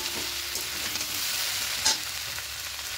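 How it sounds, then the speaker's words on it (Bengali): Red amaranth greens with their stalks cook in a pan, a steady hiss and gentle scraping as the vegetarian curry is stirred, continuous and close with no voices. "এটা খুলে নেব। খুব ভালো করে আবার মিশিয়ে নেব।"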